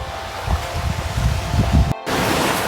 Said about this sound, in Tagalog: Mahangin, ano?